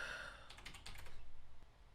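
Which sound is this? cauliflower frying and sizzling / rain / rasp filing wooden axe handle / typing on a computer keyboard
typing on a computer keyboard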